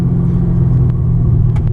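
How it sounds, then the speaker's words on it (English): A 2010 Chevrolet Camaro SS with the LS3 6.2 V8 and six-speed manual pulls away in second gear from a rolling stop, its loud, close, steady low engine rumble filling the cabin with no voices. "Rolling California stop in second gear, plenty of power and low end torque to get up and going."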